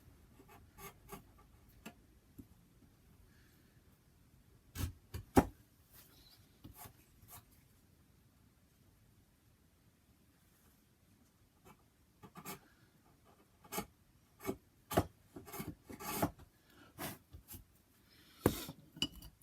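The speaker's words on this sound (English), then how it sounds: "so I need to push in with my chisel and down" A chisel pares a wooden lap joint in a quiet room, making scattered short scraping and rubbing strokes in uneven bursts, close and fairly faint, with clusters of quick strokes toward the end.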